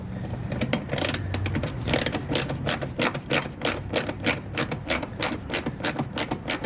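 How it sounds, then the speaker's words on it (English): Mudflap screws come out of a car's wheel arch under an 11 mm socket and screwdriver, giving a fast, steady run of close ratcheting clicks and scraping metal rasps repeating alone with no talk. "So first thing you want to do is take off these two screws."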